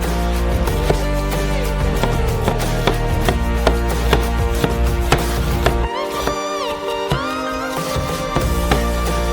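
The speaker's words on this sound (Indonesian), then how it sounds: "Kupas bawang bombay besar ini. Dan potong dadu kecilnya." A knife rapidly dices a large onion on a board, sharp regular strikes over steady background music, with a brief pause partway through.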